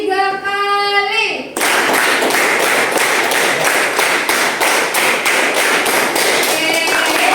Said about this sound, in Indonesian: Oke, tepuk tangan 5 kali, 3 kali.